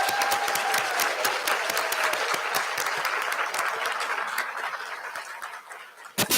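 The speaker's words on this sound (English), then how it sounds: "let's give them a round of applause" Audience at an annual meeting applauding, dense sustained clapping that gradually thins and fades toward the end, with a brief burst at the close.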